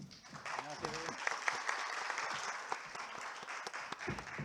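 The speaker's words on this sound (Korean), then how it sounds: "홍순만 교수님을 큰 박수로 환영해 주시기 바랍니다." An audience at an academic conference gives steady applause to welcome a speaker, a dense patter of clapping with a voice briefly heard over it.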